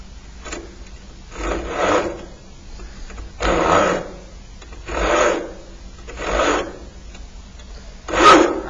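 A tenon saw rasps through wood in repeated strokes while starting a groove, each a broad scratchy burst with short pauses between, close and fairly loud.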